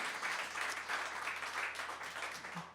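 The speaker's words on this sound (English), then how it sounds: "Can we have a round of applause for these guys?" Audience applause at a live songwriter showcase, a dense wash of clapping that rises and holds steadily for a few seconds at moderate distance.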